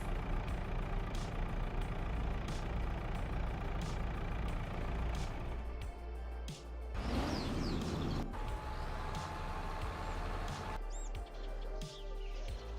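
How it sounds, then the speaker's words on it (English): A small tractor engine in Farming Simulator 22 drones steadily and loudly throughout, with brief clicks and a shift in tone partway through; no voices. "While we continue on our merry way with our little tractor here."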